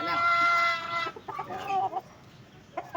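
Backyard chickens cluck in a rapid, layered chorus for the first second, then scattered individual clucks and calls follow at close range with no one speaking.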